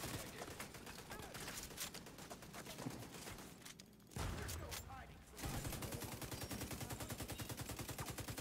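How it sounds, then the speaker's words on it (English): Rapid, continuous automatic fire from a hostile turret in The Division 2's hardcore Dark Zone, loud and dense, with a brief lull before a heavier, steadily pulsing burst resumes. "Now there's another turret behind me."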